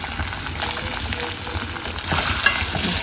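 Boiled potatoes frying in a pan give a steady close sizzle with stirring scrapes, growing a little louder toward the end.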